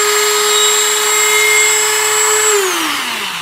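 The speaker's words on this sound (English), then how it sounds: "bit, which would fit into your Dremel tool as such. Turn this on" Dremel rotary tool with a small bit enlarging an eye hole in a wood-carved decoy fish or duck: a steady high-pitched whine close by, held evenly before winding down in pitch near the end.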